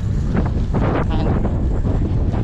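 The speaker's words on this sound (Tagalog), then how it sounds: "sa sobrang hangin hindi na muna ako nag-video kanina. Mahangin eh." Strong wind buffets the microphone while riding a fixed-gear bicycle, a loud, continuous roar with gusty surges, close and steady throughout.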